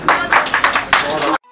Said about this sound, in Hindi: एक बहुत बड़ी तालियां अमृता प्रीतम जी के लिए।